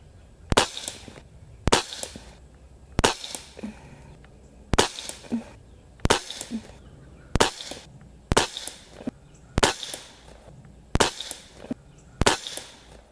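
Umarex Walther Reign .22 caliber bullpup airgun firing ten sharp shots at a steady pace roughly every 1.3 seconds, each crack loud and close with a short ringing tail and quiet gaps between.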